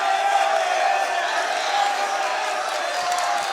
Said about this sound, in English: by the sound of the crowd, you could tell that this is the match that everyone wanted to see tonight